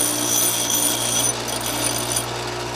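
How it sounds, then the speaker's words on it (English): A bench grinder runs steadily with a dense, high, gritty whir and a hum underneath, staying constant and close for a few seconds with no talk. "We spent some time with the bench grinder."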